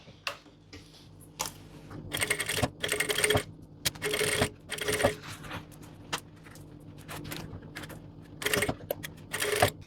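A sewing machine stitches a trouser zipper in short, rapid bursts separated by brief pauses, a close, clattering whir under a quiet background hum.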